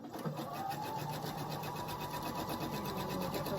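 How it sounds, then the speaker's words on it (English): A sewing machine runs steadily at close range, stitching down the side of a dog bone strip for a quilt with a fast, even mechanical whir and rapid needle pulses throughout. "And then I'm just going to sew this right down the side"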